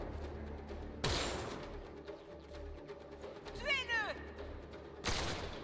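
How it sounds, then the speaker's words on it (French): Sniper gunfire in the video game Mass Effect Andromeda: two sharp, loud shots about four seconds apart over battle ambience, with a brief whooshing sweep between them. "Un sniper, braqué droit sur Sloan. Sniper!"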